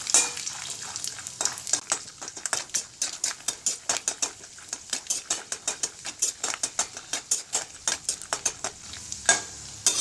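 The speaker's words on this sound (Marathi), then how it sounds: "सर्वात आधी शेंगदाणे तळून घेऊया" Dense, rapid crackling and sizzling of peanuts frying in hot oil, with irregular sharp pops throughout and occasional stirring clinks.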